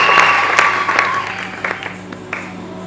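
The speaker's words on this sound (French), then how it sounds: "J'ai à cœur qu'on acclame une dernière fois avant de reprendre notre place" A church congregation applauds at an apostle's ordination, a loud burst of many hands clapping close by that thins out and fades over a few seconds.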